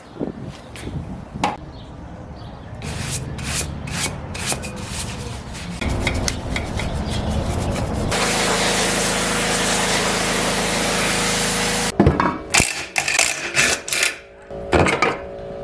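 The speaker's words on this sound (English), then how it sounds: "we're gonna go ahead and sand it and prep it for paint" A K24 intake manifold being sanded to prep it for paint: scattered scraping and tapping, then a steady loud whirring stretch of power sanding lasting several seconds, followed by more rough scrubbing strokes, close up with no voices.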